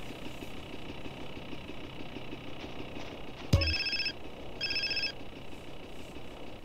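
A phone rings in Grand Theft Auto San Andreas, two electronic trills in quick succession after a sharp click, heard over a low idling car engine.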